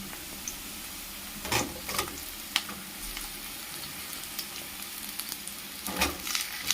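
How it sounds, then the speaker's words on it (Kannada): Onion frying in oil for tempering, a steady soft sizzle with occasional louder crackles and pops, close and continuous without talk. "ಈರುಳ್ಳಿ ಸ್ವಲ್ಪ ಫ್ರೈ ಆಗಿದೆ"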